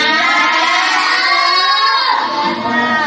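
A classroom group of students breaks into loud, sustained applause and cheering, a dense wash of many hands clapping with children's voices mixed in, steady throughout before easing slightly near the end.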